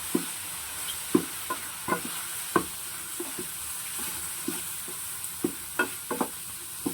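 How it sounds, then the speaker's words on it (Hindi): Mushroom paneer masala stirred in a pan, soft frying sizzle with a spoon knocking and scraping the pan at an irregular pace, close up with no talk. "इसको अच्छे से मिक्स करना है"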